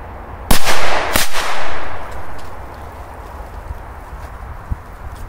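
Two sharp, loud bangs in quick succession from a double-bang firecracker, each with a booming tail that fades into outdoor ambience; a faint pop follows later.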